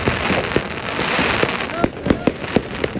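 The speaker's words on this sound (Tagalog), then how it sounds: "Before 12 pa actually, since 6 o'clock, the fireworks is non-stop." New Year fireworks in the Netherlands set off continuously, with sharp bangs and crackles popping near and far over a steady hiss of distant bursts, and voices talking beneath.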